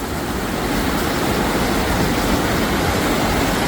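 River water rushes through a deep mountain gorge between steep hillsides, a loud, continuous broadband roar with no pauses, heard close and alone.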